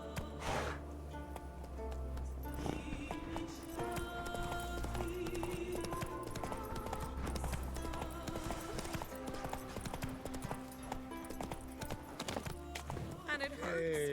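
Roach, a horse in The Witcher 3, gallops with brisk, rhythmic hoofbeats that run almost continuously at moderate volume, mixed with in-game ambience and occasional voices.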